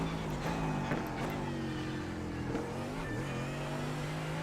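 A Mercedes-AMG GT3 race car in the iRacing sim on the Belle Isle track accelerates out of a corner: a loud, steady engine roar climbing in pitch, with brief dips at shifts.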